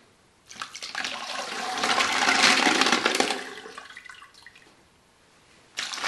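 Thick silicon carbide grit slurry rinsed out of a rock tumbler barrel under running water, a loud steady rush that swells and fades over several seconds, then resumes briefly at the end.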